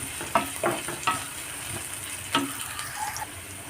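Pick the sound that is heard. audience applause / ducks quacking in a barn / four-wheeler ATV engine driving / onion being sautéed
onion being sautéed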